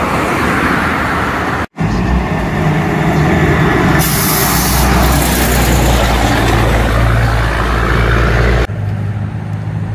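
Road traffic on a highway near a bridge at the Claudia Lars exit in El Salvador, with loud continuous vehicle roar close by, passing trucks with engine drone and a short air-brake hiss, and a brief drop near the start.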